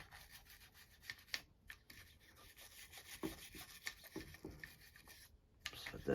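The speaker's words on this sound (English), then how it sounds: "So you get your brush with some CLP on it. Just scrub the inside there." A brush loaded with CLP scrubs the inside of a Churchill Akkar 612 pump-action shotgun, making faint, irregular scratchy rubbing strokes up close in a quiet room.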